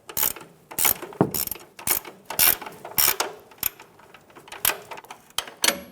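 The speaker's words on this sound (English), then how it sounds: "we're going to use a 21mm wrench and snug down this nut" A 21mm ratcheting wrench snugs down a nut on a control arm camber alignment kit of a 2014-2018 Chevrolet Silverado, giving close, crisp clicking bursts in irregular strokes with no talk.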